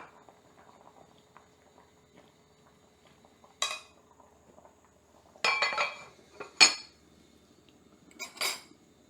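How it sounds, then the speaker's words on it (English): A knife slices smoked salmon into bite-sized pieces on a board, a few short sharp cutting knocks and clinks coming in quick clusters near the end, close and fairly quiet, with no talking. "And cut it into roughly bite-sized pieces."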